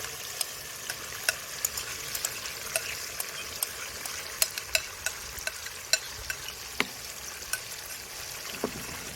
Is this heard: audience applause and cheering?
no